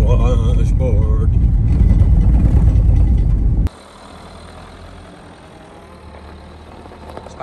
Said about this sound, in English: It's like driving over a washboard.